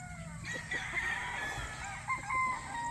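A Boston Black gamefowl rooster crows several times close by, its calls clear and sharp, with other fowl faintly clucking in the background on a Philippine farm.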